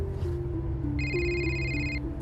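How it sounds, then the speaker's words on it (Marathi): A telephone rings at night in a domestic drama scene, a steady electronic ring tone over a low hum and quiet background music, with no talk. "विद्युतला फोन करते."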